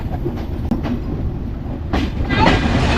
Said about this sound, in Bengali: আমরা মোবারকগঞ্জ রেল স্টেশন পৌঁছে গেলাম